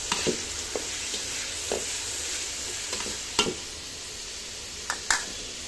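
Meat fries in a pot over a stick-fired clay stove while being cooked down for khichuri, a steady bright sizzle broken by sharp scraping strokes of a spoon stirring.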